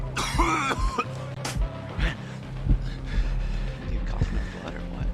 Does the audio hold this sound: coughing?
yes